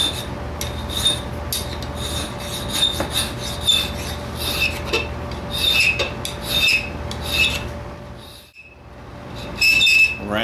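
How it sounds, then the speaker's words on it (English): A smoothing file rasps across metal while a knife blade is shaped, loud rhythmic strokes repeated in bursts with a brief pause near the end. "Come back with a smoothing file."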